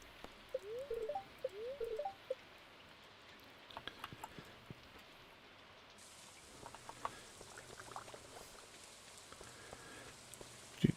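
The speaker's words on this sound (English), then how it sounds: "We don't need the rain as far as crops or anything" Rain in the video game Stardew Valley Expanded, a soft steady patter of falling drops with scattered faint pings, quiet and continuous with no talk.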